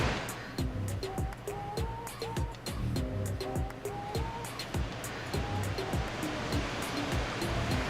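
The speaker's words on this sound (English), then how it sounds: "2-stage waterfall, brother." Steady rushing water from a two-stage, two-tier waterfall in the Farming Simulator 22 video game runs throughout, with clear pitched tones sounding repeatedly over it.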